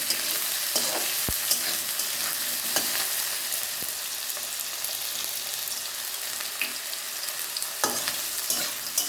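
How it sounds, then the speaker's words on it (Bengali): Diced potato sizzles steadily in hot oil with tempering spices, a continuous close frying hiss broken by occasional scrapes and clinks of a spoon stirring the pan, with no talking. "একটু ভাজা ভাজা হোক।"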